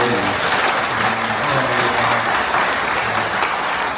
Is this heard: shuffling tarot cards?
no